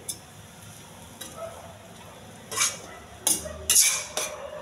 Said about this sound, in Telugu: కొంచెం బాగా కలుపుకోవాలండి